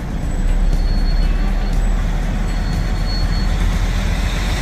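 Small train or metro passing by in Chicago, a steady loud rumble of rail cars and wheels with faint high squeals, continuous throughout with no talking.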